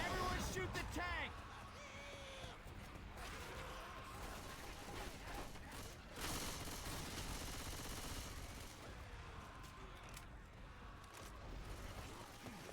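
Rapid gunfire as players shoot at a Tank in a competitive Left 4 Dead style match, a steady barrage under a commentator's continuous talking.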